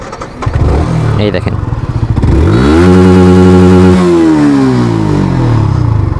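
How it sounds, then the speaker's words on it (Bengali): A Yamaha R15M motorcycle exhaust revs hard and close: a short clattering idle, then a loud climbing rev that holds and falls back. Someone says a few words at the start. "এই বাইকের সব থেকে মানে আমার কাছে যেটা অপছন্দনীয় সেটা হচ্ছে বাইকের এডজস্টের সাউন্ডটা। আমি আপনাকে শোনাই একটু"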